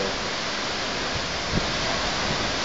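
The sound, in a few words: waterfall in a cave, Aw-asen Falls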